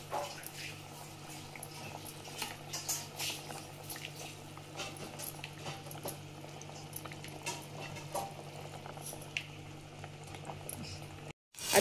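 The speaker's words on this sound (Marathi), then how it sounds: "आतडे आमी मुद्दोश फ्राय करताय." Muddoshi (ladyfish) frying in a pan, with a faint, steady bubbling sizzle and small crackles that run on evenly before cutting off at the very end.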